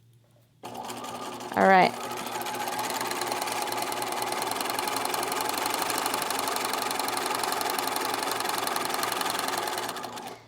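A sewing machine stitches through paper embellishments, a loud steady rapid whirring that starts abruptly and runs continuously, with a brief spoken word near the start.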